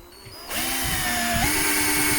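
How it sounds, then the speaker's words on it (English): A worn power drill starts up and whines steadily as it drives into rebar for a koi pond build, loud and close with its pitch rising slightly under load. "My drill is a little bit tired."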